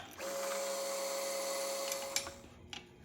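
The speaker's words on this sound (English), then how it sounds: "I got to drill the tap hole here and tap that 1032." A small number 20 drill whirs steadily at high speed, drilling a tap hole in metal for a 10-32 thread, then slows with a few sharp clicks and bursts of metal contact at the end.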